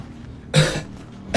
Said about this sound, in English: He started coughing.